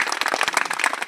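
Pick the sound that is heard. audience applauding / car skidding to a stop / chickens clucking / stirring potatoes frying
audience applauding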